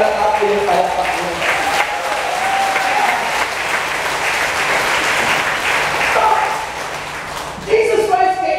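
Congregation at a Saturday church service in Hong Kong applauding steadily for several seconds, a full crowd of clapping with voices heard at the start and near the end.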